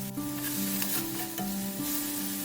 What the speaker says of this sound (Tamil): இப்போ இஞ்சி சேர்த்துட்டு நல்லா கலந்து விட்டுக்கோங்க